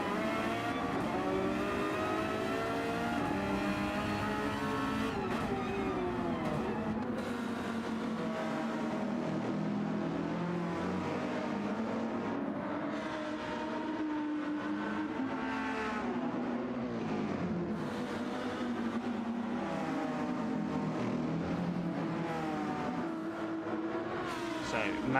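Porsche Cup race cars lapping Circuit Gilles Villeneuve, a continuous loud engine drone rising and falling in pitch as cars accelerate and shift, with a commentator talking over it throughout.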